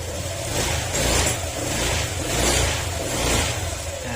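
Mitsubishi L300 van engine running and revving, a steady near mid-pitched drone that swells in a few slow surges of throttle over a few seconds, with no talk.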